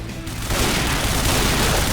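Rapid gunfire from a gun being test-fired in the Point Blank shooter game, with a dense, loud, continuous burst of shots and booms filling the whole span, close and harsh, with no clear talk.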